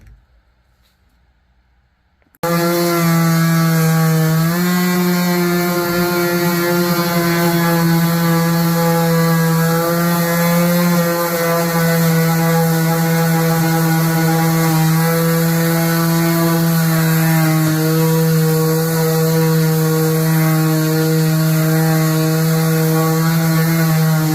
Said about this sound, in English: Definitely see here where the sander is starting to work